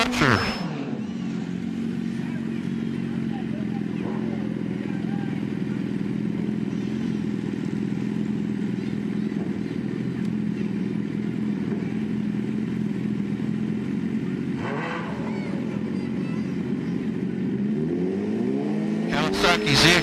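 A Kawasaki ZX14 motorcycle runs at a drag racing event, its engine a steady, loud drone held for many seconds. The clip ends with a rising rev and rushing pass, and there is crowd and track noise behind it.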